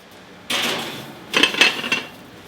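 Metal baking dish of vegetarian stuffed cabbage rolls sliding onto the rack of a preheated 350-degree oven, a sharp scrape followed by a cluster of clanks and rattles, close and fairly loud.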